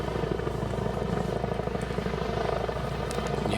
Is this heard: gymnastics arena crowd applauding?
no